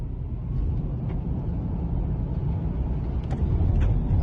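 A new Highland Tesla Model 3 Performance accelerates on a slippery road during a test drive, giving a constant low road and cabin rumble that grows louder near the end.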